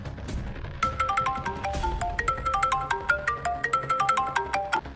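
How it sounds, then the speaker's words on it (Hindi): A mobile phone rings with a bright, repeating melodic ringtone of quick plucked notes. It starts after a short moment of low room noise and then plays steadily and clearly at close range. "अगर मोबाइल यहीं होगा तो अभी बजेगा।"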